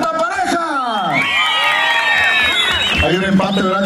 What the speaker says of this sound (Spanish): El aplauso para la cuarta pareja